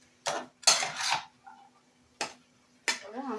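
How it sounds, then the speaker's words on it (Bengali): Ridge gourd cooking with spices is stirred in a pan, producing a few sharp, quiet scraping and clinking strokes separated by near silence, with a brief voice at the end. "ভালো করে নাড়াচাড়া করে নিতে হবে, যাতে সব মশলাটা চিচিঙ্গার মধ্যে"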